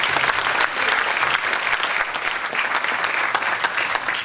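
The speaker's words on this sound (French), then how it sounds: "Je pense qu'on peut les applaudir" A large audience at a French conference on identity and rootedness breaks into sustained applause for the event organisers: a dense, steady wash of many hands clapping, loud and close, with no talk over it.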